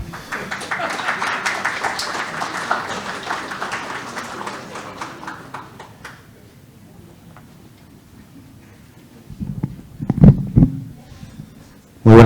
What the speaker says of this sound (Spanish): Palmas para él, por favor.